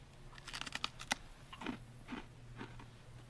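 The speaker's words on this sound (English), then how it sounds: "You can eat the tail. It's like eating a potato chip." Crunchy bites into a fried bluegill fish tail coated in batter: a quick cluster of sharp, brittle crunches, then a few slower chewing crackles, close up and quiet, with no talking.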